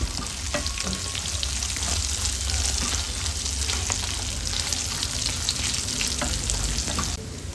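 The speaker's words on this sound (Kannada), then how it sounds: "1 ಚಮಚದಷ್ಟು ಜೀರಿಗೆ ಸೇರಿಸ್ಕೊಳ್ತಾ ಇದ್ದೀನಿ." Cumin seeds and breadfruit pieces frying in hot oil for a sambar, a steady dense sizzle with faint crackles and occasional stirring scrapes, close and continuous, with no voices.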